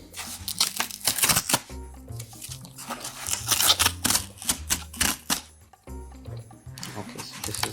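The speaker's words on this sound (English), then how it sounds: "let's unbox this one" Close, busy rustling and crinkling of cardboard and paper while a Jordan 1 Low All-Star Carbon Fibre sneaker box is unpacked, with irregular bursts of crackling, tearing and tapping sounds.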